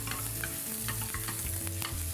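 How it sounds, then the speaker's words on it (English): Onions, garlic and seeds fry in a very hot pan, the seeds popping amid a dense crackling sizzle with stirring scrapes, fairly quiet and steady, no voices. "Those seeds popping, gotta stand clear."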